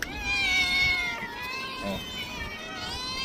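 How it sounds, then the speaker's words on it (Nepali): A cat meows in several drawn-out, wavering cries close by, one long call followed by shorter ones, with faint background noise and no clear talking. "हेरे म्याउ म्याउ गरेछ"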